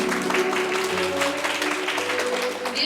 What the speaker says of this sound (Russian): пусть прозвучат громкие аплодисменты.